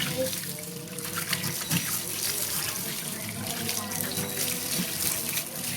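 Hands rinsed under a running tap, steady splashing water flowing continuously and close, with faint talk underneath.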